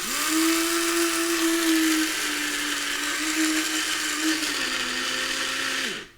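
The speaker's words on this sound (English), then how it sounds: "So I'm going to use my coffee grinder, which I use for flaxseed." A small electric coffee grinder whirs at a steady high pitch while grinding za'atar spice seeds, running continuously for about six seconds before cutting off abruptly.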